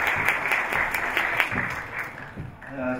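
Audience clapping at a school entrance ceremony for pet-animal studies, a dense steady patter of many hands for about three seconds, tapering off near the end as a voice begins.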